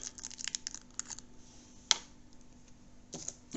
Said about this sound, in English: I'll just get a pair of scissors and I'll cut that off.